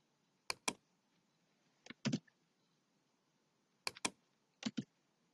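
Typing on a computer keyboard: clear, close keystrokes arriving in quick pairs and short clusters separated by silent pauses, crisp and isolated with no talk.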